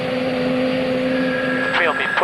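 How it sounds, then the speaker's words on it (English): An Army Gazelle helicopter, a small, sleek, unarmed reconnaissance aircraft, drones with a steady turbine whine and rotor hum throughout, loud and close as if from inside the cabin, while a voice talks over it. "Course 354 will be learning to fly Gazelles, the Army's smallest and sleekest helicopter."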